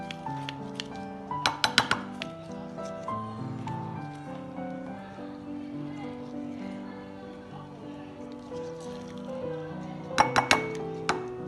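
Kachumber salad is tossed in a bowl with lemon juice, salt and pepper, giving a couple of short clusters of spoon-on-bowl clinks near the start and end over soft background music.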